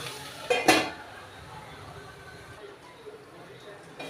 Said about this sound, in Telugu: ఇలా మూత పెట్టుకుందాం